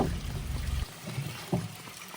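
Copper sulphate solution pours into lime water while Bordeaux mixture is prepared for spraying pepper vines, a short liquid splash and trickle followed by a second brief pour.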